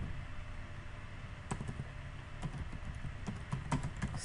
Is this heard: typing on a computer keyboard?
yes